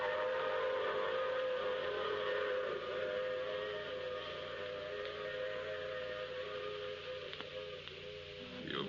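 A long, drawn-out train whistle sound effect from a 1949 radio drama wails continuously over a rumbling background, holding steady and then gradually easing off.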